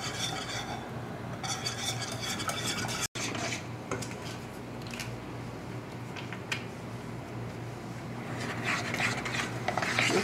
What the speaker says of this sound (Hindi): अब ये ज़रा बस इसको हिलाते जाइए,